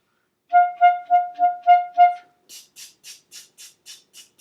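Short detached notes played on a wind instrument in a staccato lesson, a run of six clear evenly spaced tones followed by about eight softer, breathier clipped notes higher up, crisp and close with no talking.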